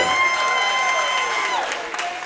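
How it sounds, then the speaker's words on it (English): Fight-night crowd at a KCFA 30 MMA event cheering and applauding as a fighter's name is announced, a dense roar of claps and shouts that stays loud throughout and tapers slightly at the end. "Crowd lit up whenever his name was announced."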